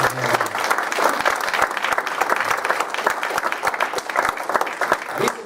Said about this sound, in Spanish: Debe ser un fuerte aplauso.